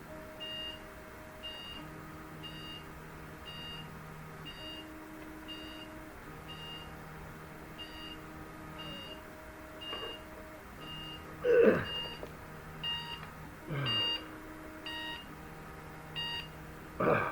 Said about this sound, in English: phone alarm